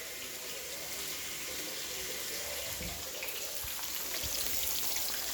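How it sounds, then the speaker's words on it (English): Hands rinsed under a running kitchen tap while catfish is being fried, a steady close hiss of flowing water with faint splashing, no speech. "I'm going to rinse my hands off real fast."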